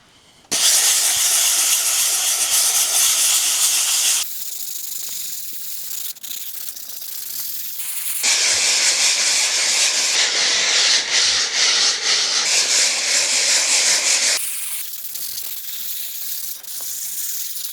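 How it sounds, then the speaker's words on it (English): A first layer of wall filler is smoothed with coarse 40 grit sandpaper in a house repair in Madeira, Portugal, giving steady, loud, close scratchy rasping in long strokes with brief pauses between passes. "We're just going to use some 40 grit sandpaper just to smooth off the first layer of filler"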